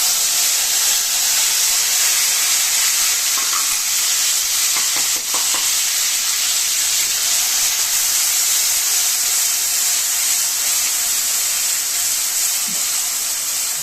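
Chopped tomatoes tossed into a hot pan for upma, giving a loud continuous sizzle and hiss of frying with faint stirring scrapes throughout.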